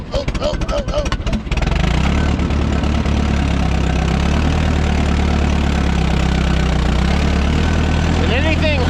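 An old Massey 50 tractor engine runs loud and steady at a low idle-like rumble throughout, starting after a brief clattery moment; a voice is heard near the end.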